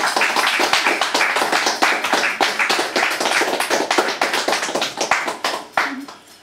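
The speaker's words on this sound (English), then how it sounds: "so more applause please for P.R. Murray" An audience applauds after a poetry reading, with dense, loud, sustained clapping from many hands that keeps going for several seconds and then tapers off near the end.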